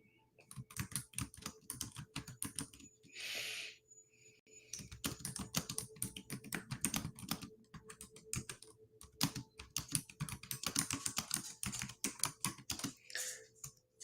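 Fast, continuous typing of text on a computer keyboard, dense, crisp key clicks in rapid irregular bursts close to the mic with a few short pauses and a faint background hum, no talking.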